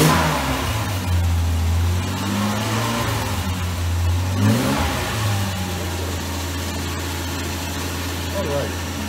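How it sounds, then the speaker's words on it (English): A Series 1 Jaguar E-Type engine, started for the first time after 30 years, idles with a low steady rumble and then rises through a short rev before settling back to idle, close by, while people talk faintly. "Go ahead and rev it a bit."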